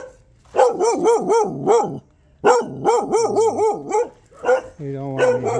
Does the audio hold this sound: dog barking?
yes